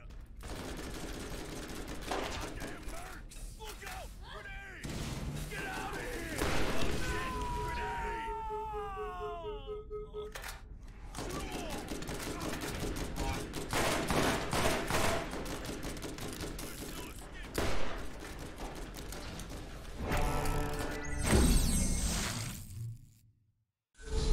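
Shotgun blasts and other gunfire in Borderlands, with repeated loud, dense bursts across a chaotic firefight and a siren-like sweeping tone in the middle, heavy and continuous with little pause.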